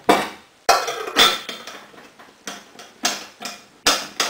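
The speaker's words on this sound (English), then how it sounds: "So I'm left now with the frying pan." A metal frying pan clanks and knocks several times at uneven intervals, each sharp metallic hit ringing briefly before fading, close by with no talking.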